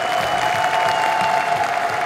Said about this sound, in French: sous vos applaudissements, bien entendu.